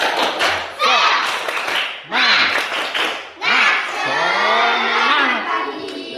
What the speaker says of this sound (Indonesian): Biar lebih semangat lagi, tepuk semangat.